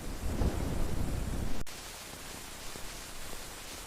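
Heavy rain falls with a loud thunder rumble for the first second and a half, which cuts off abruptly, leaving a steady, softer hiss of rainfall.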